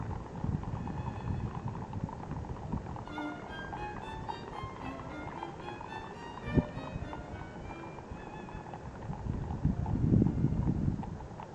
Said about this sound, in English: we just listened to the clippity-clop of the horses as they rode home